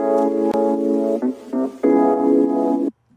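Dry, unprocessed sample with no reverb, a few seconds of sustained harmonic tones changing pitch a couple of times, with a brief dip in the middle, ending abruptly into silence.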